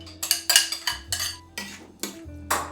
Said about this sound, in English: To that, we're gonna mix the remaining sauce, this remaining Chipotle mayo.